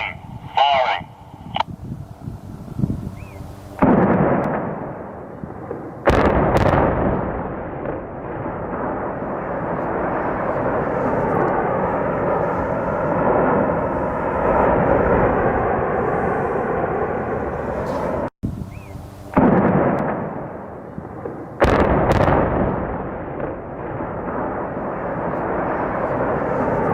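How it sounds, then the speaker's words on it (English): A demolition blast brings down a power station in South Australia, a deep, sustained rumbling roar from a distance that lasts many seconds, broken by sharp cuts, with radio-like chatter around it. "We've seen those power stations closed down and blown up over in the renewables paradise of South Australia."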